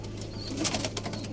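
Pigeons or doves cooing in a coop, a steady soft murmur with a few brief wing flaps and a louder flutter near the middle, close by with no talking.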